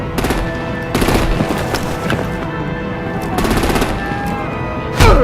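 Gunfire in a Batman video game: loud, rapid bursts of automatic fire in several repeated volleys, close and dense, ending with a heavier blast.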